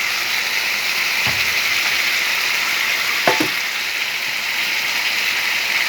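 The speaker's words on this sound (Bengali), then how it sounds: "ভাজা পটলগুলো আমি দিয়ে দিচ্ছি।" Steady sizzle of fried pointed gourd (potol) cooking with vegetables in a pan, a continuous close hiss broken by a couple of brief stirring clunks partway through.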